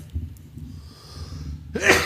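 A single close sneeze bursts out near the end after quiet background murmur and breathing.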